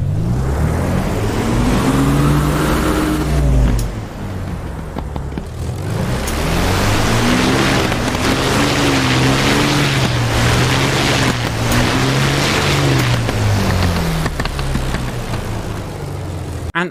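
A De Havilland Mosquito FB Mk VI engine roars in the DCS World flight simulator, loud and sustained, with a droning tone that rises and falls as throttle changes, heard alone without speech.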